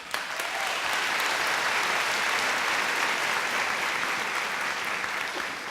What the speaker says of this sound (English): that applause tells me one thing